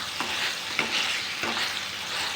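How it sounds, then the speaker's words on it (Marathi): Tomato and onion for pav bhaji frying in a pan, with a steady close sizzle broken by a few scraping stirs of a spoon or masher, no voices. "आपला टॅमॅटो आणि कांदा पण मस्त असा शिजत आलेला आहे"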